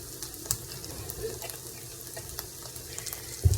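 An empanada fries in cooking oil with a continuous close crackling sizzle, a few sharper pops, and a soft thump near the end; no one speaks.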